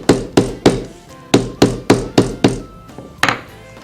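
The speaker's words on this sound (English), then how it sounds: "take a mallet and pound the lace down flat" A mallet pounds leather lace flat in about a dozen sharp, close thuds, struck in a fairly even rhythm with a brief pause before the last blow, no voices.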